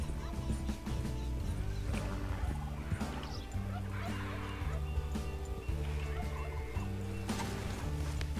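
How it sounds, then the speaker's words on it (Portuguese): Turkeys in the Red Dead Online video game gobble repeatedly in fast rattling bursts. The calls are layered over a low, looping musical drone, with occasional other animal sounds nearby. "Olha o peru de três estrelas ali."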